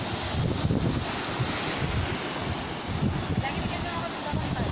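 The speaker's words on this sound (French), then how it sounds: "la période de grand vent qui dure 7 jours" Steady strong seasonal wind roars by Lake Tanganyika at Kalemie, buffeting the microphone in a constant low rumble, with faint wave-like washing underneath.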